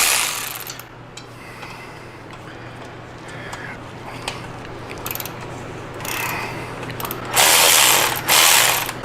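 A wrench breaks loose the exhaust bolts on a Harley-Davidson bagger during a Bagger Brothers Maverick V3 2-into-1 exhaust install, producing intermittent ratcheting clicks and metallic scrapes over a steady low hum, with louder bursts near the end.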